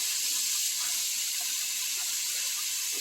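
Tap water runs steadily as items are rinsed under it, an even hissing flow filling the short clip with no talk.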